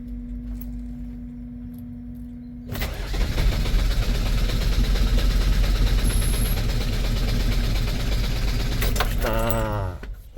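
A big truck that won't start in the mornings, its air filter removed, cranks hard: a low steady hum gives way to a loud, labored rumbling churn for several seconds before cutting off with a whine.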